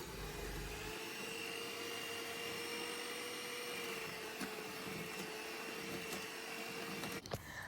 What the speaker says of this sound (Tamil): இந்த பட்டர், சீனி, முட்டை 3மே ஒன்றோடு சேர்கிற அளவுக்கு பீட் பண்ணி எடுத்துருங்க